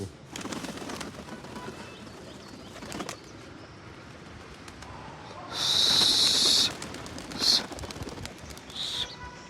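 A loud burst of flapping wings as eight pigeons take off together, followed by a couple of shorter flutters, over quiet outdoor background noise.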